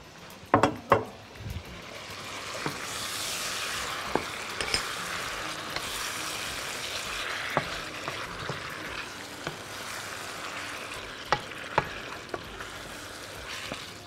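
Garlic and green coriander frying in a pan, a steady soft sizzle with sharp clicks and scrapes of stirring scattered throughout.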